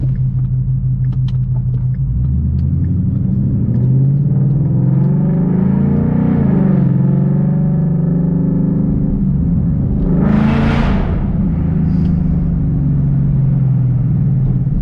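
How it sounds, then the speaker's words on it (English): A boosted 2016 Ford Mustang GT V8 rumbles and revs hard under a bridge with booming echo, rising and falling in pitch, loud and close throughout. "Let's get a little under the bridge hit, see how loud this car is."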